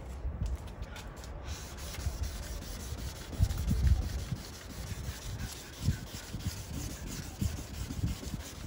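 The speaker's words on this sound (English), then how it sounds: "we're gonna work in horizontal motions for this 600 grit" A yellowed, hazy car headlight is wet-sanded with 600 grit sandpaper in horizontal strokes, giving soft, steady rhythmic rubbing and scraping close by, fairly quiet and continuous.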